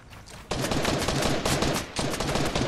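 Rapid video game gunfire bursts in after a quiet start, becoming a dense, loud volley of automatic shots that runs almost without pause to the end.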